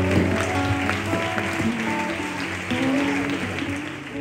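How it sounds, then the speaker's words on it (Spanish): A church congregation gives a loud round of applause during a Spanish-language worship service, steady clapping sustained over several seconds with music and faint voices blended in. "Un fuerte aplauso, recibimos al cielo y la palabra."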